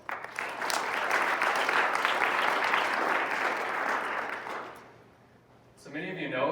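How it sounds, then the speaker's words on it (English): A banquet audience applauds, with dense, sustained clapping for about five seconds that then fades out, followed by a voice starting to speak. "Let's give them a round of applause."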